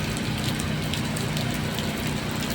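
Heavy rain from a sudden downpour pours down steadily on an afternoon street, a dense, loud, continuous wash of drops with no other sounds standing out.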